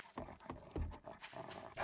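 A hostile dog in the survival video game 7 Days to Die, heavy rhythmic panting and short growling breaths in quick bursts, close and fairly quiet.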